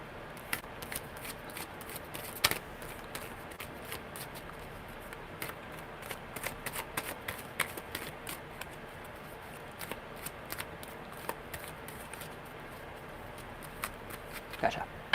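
Tarot cards are shuffled by hand in quick, irregular bursts of soft riffling and snapping, close and fairly quiet, continuing steadily with no talking.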